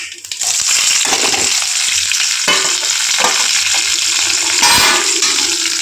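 Urad dal, mustard seeds, fenugreek, cumin and black pepper fry in hot coconut oil for a tempering, making a loud, continuous crackling sizzle with scattered pops throughout.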